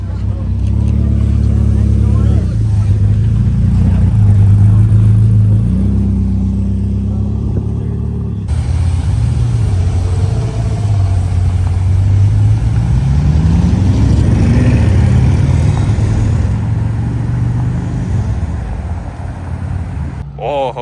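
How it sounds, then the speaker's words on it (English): A Ferrari F40 supercar rolls in at a car show: a deep, loud engine rumbles and rises in pitch as it nears, with crowd noise and voices talking over it. "Another F40 rolling in."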